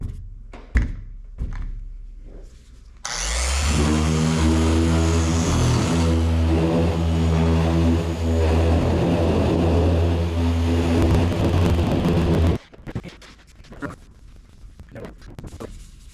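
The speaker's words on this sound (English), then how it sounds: "I'll be using my orbital sander here, random orbital" A random orbital sander set to 4,000 polishes compound into Nissan Titan truck paint. After a few knocks and handling sounds it starts up with a loud, steady buzzing whir, runs for about ten seconds, then stops abruptly.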